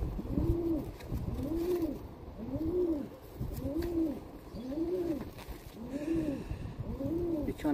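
Pigeons cooing in a steady repeating rhythm, each soft rounded coo following the last about every second, close and clear over light background noise.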